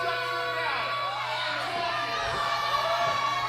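A wrestling crowd at a Night of the Elite event fills the hall with loud, continuous cheering, whoops and scattered shouts, a dense roar from start to finish.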